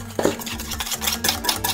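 A whisk stirs hot sabayon in a metal pot, making a steady, close scraping and clinking rhythm with no talking.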